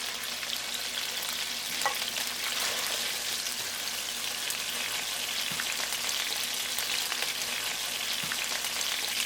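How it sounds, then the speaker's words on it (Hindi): Shrimp chow mein fries on a high flame, a loud, continuous close-up sizzle with faint crackles and stirring, steady throughout with no voices. "इसको हाई फ्लेम पे कुक करें। श्रिम्प डालने के बाद सिर्फ 2 मिनट कुक करें"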